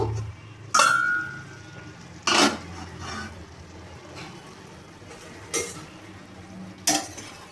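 The metal lid of a cooking pot holding simmering potato and papaya clanks as it is handled and lifted, giving four sharp, separate knocks spaced seconds apart over a quiet kitchen background.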